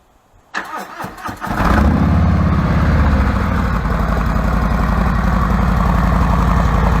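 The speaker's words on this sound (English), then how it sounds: "We're going to start the bike up." A 2020 Harley-Davidson touring motorcycle with 4-inch slip-on mufflers and medium baffles cranks briefly, fires up, and settles into a loud, steady, throbbing idle close to the microphone. No one speaks over it.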